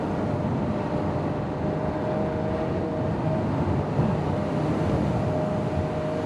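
Ferrari 812 GTS V12 cruising at 30 mph, a steady low engine rumble with road and wind noise, fairly quiet and constant with no voices.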